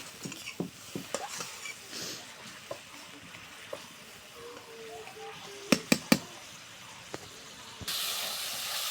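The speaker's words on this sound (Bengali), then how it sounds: "মশলাটা সুন্দর করে কষে নিচ্ছি, তেল ছাড়ে দিচ্ছি" Quiet sizzling and hissing of spice paste frying in oil in a pan, with scattered clicks and scraping stirs, followed by a louder burst of sizzle near the end.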